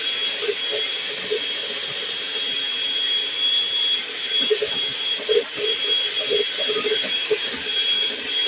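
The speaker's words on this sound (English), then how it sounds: "we need to beat our egg whites to a soft peak" An electric mixer whips egg whites to soft peaks for a pineapple upside-down cake, giving a steady close whirring drone with a high whine that holds for the whole stretch, while a voice murmurs faintly in the room.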